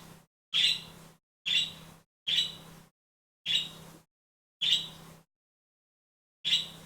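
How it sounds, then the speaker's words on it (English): Pet bird squawking from its cage, seven loud, harsh calls spaced about a second apart with short silences between, close and alone with no talk. "I think what it is that Ringo wants to smooch the girl bird in the other cage"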